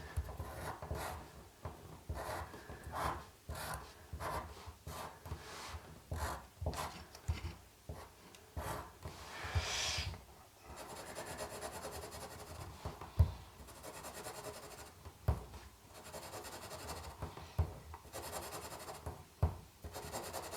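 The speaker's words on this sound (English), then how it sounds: "So you can start off by drawing out your pattern." Felt tip pens scratch and rub across paper while a badge pattern is drawn, making rhythmic close strokes with short pauses in between.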